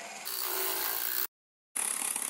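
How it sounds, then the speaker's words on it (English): An electric espresso milk frother whips tofu cream for a banana cream pie, giving a steady close whirring buzz that runs for about a second, stops briefly, then starts again. "Now I actually use an espresso milk frother, and basically let this go for about 7 to 8 minutes until stiff."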